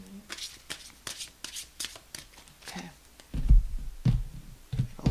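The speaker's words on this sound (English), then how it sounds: "Maddie, one more shuffle" Tarot cards are riffled in a quick series of crisp, close shuffles, followed by heavier thumps as the deck is squared and handled.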